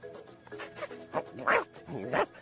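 A dog gives several short, high yips and barks, fairly close, with whiny tonal edges between them.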